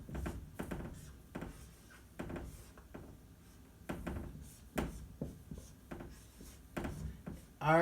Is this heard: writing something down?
yes